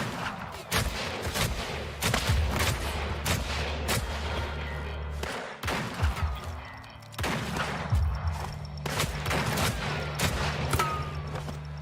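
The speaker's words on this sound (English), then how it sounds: "Then you get a proper gunfight." Repeated gunshots in a video game gunfight crack in quick irregular bursts over a sustained low rumble, each report trailing into long rolling echoes that hang in the air, loud and dense throughout with no voices.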